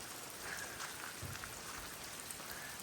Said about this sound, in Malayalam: മഴ പെയ്യുന്നുണ്ട്, വെയിലുണ്ട്.